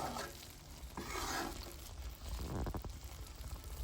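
Chicken biryani being stirred in a pot, a close scraping and shuffling with a sizzling hiss and a brief liquid pour-like swell midway, steady and fairly quiet throughout.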